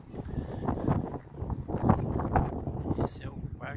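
Strong wind gusts across the microphone during a bike ride through Parque Náutico in Curitiba, a fluctuating rumbling rush over which someone talks.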